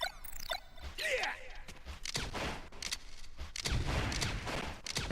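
Falco's laser blaster firing in a Super Smash Bros. game, a string of quick sharp zaps and pops under busy game sounds, with a voice talking faintly beneath.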